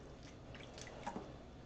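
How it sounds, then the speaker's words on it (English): Liquid dye is poured over yarn, giving a quiet wet trickle with a few soft drips and squishes over low background noise. "And we're going to pour this all over."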